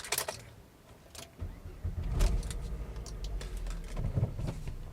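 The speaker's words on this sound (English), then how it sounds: "put the key in the ignition and twist" Keys jangle as the ignition is turned in a manual Volvo V70 T5, then the five-cylinder engine catches and settles into a steady low idle, recorded from inside the car.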